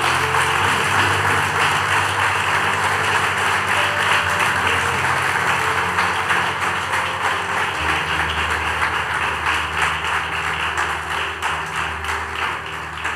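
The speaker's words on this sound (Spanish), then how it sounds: "Dale el aplauso al Señor." Congregation applause fills a church service, a steady wash of clapping sustained throughout with low organ or keyboard tones and a faint hum underneath.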